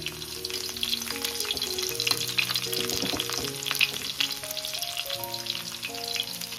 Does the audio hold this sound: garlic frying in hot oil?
yes